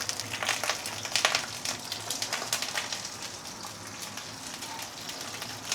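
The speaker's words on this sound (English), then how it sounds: "So let's saute the prawn for 2-3 minutes." Prawns sautéing in hot oil in a pan, giving a soft, steady crackle and sizzle with scattered pops, fairly quiet throughout.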